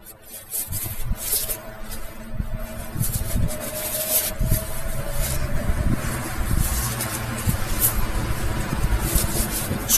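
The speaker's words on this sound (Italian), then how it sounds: "Scusate per le macchine che passano, ma oggi c'è tanto traffico." Road traffic rumbles steadily past an outdoor spot, with cars swishing by nearby in overlapping waves and a constant low engine drone and tire hiss.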